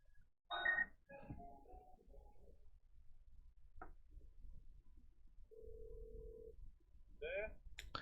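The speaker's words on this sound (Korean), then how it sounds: "전화 연결 한번 해보죠." A telephone call being placed, with one steady ringback tone lasting about a second, preceded and followed by brief bursts of speech and faint clicks.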